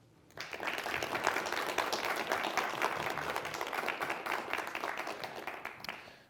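A conference audience bursts into steady applause welcoming a speaker, starting suddenly, holding at an even level for several seconds, then tapering off.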